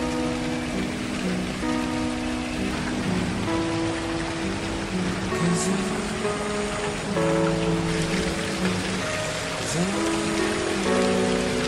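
Rain falls steadily at Eden Gardens in Jamaica, a continuous even hiss of drops on surfaces that lasts throughout, with a faint tonal hum underneath and no talking.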